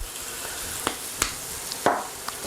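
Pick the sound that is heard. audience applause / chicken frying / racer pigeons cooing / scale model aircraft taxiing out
chicken frying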